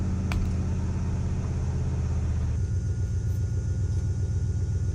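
Turbocharged 1UZ V8 drag car engine on a strip, roaring loudly and continuously, its steady rumble abruptly changing character partway through as traction control cuts the power.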